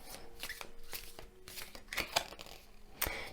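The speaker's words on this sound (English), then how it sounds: "I'm just shuffling away." Tarot cards are shuffled by hand in a run of quick papery riffles and slaps, close and moderately quiet, with no talk.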